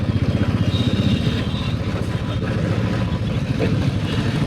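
A motorcycle engine runs close by with a steady, throbbing pulse, a low rumble holding at a constant level throughout the clip.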